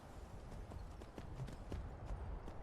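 Horse hooves clip-clop at a steady trotting rhythm in the game Skyrim, fairly faint with soft repeated strikes over a low background hum, no talk.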